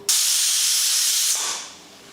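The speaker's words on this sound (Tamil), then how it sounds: "இப்போ குக்கர் மூடி போட்டு 5 விசில் விட்டு ஆஃப் பண்ணிக்கலாம்." A pressure cooker on the stove lets out a loud, close, continuous hissing jet of steam through its whistle that holds for over a second and then fades away, with no talking.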